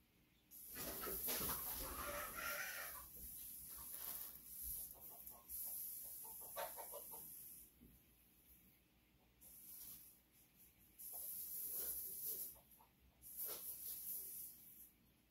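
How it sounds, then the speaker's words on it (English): Chickens being sprayed off a porch with a hose, giving bursts of loud hissing spray that start and stop several times, with quieter pauses and faint rustling between them. "I had to spray some chickens off my porch."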